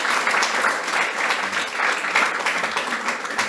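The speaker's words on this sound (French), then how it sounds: "Et on peut applaudir à l'équipe." A church audience applauds the team during a Lille Easter service, with steady, dense clapping throughout at an even level and no voices over it.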